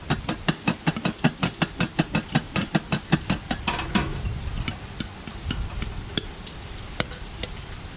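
Popcorn cooking in butter in a pan on a stovetop gives a fast, regular clatter for several seconds, then sparse, scattered pops over a soft sizzle as the popping slows.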